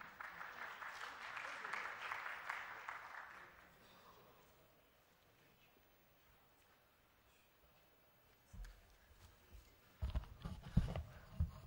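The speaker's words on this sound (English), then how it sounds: "you were very generous with that round of applause" A round of applause from the audience at the opening ceremony of the Riyadh International Humanitarian Forum, a faint, distant patter of clapping that fades out after a few seconds, followed by quiet room noise and a few low thumps.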